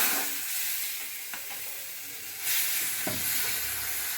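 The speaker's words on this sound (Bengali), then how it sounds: "এবার আমি 2 হাতা করে এই ব্যাটারটা আমি দিয়ে দেব।" Sweet ripe mango batter, two ladlefuls, hits a lightly oiled hot pan, giving a steady close sizzle that swells sharply midway, with faint stirring and scraping clicks.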